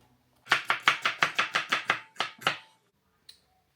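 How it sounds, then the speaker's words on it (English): Peppers, onions and celery are chopped on a board with a knife in about a dozen crisp, evenly spaced strokes, close and loud, then a pause and one faint tap. "while I'm chopping all of these veggies"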